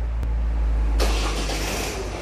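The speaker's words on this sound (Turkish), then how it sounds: "Çalıştırın arabayı." A Ford Focus engine starts about a second in, with a broadband burst that settles into a steady idle. Before it there is a low rumble and a single brief click, and no one speaks.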